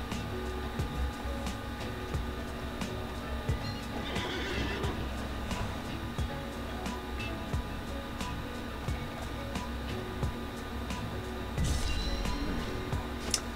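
A horse in the online horse-breeding game Alicia Online gives repeated whinnies and neighs over a continuous game background hum, with occasional soft hoof-like clicks.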